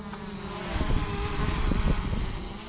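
Attop W70 GPS drone hovering and flying backwards, a steady buzzing whine of small propellers with a low rumbling undertone that swells slightly, fairly close and continuous.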